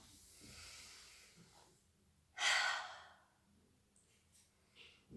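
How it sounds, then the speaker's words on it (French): A single deep inhaling breath taken during a guided relaxation exercise, a brief airy rush rising and fading mid-clip, with quieter breathing before and after in an otherwise hushed room. "Encore une fois, on inspire."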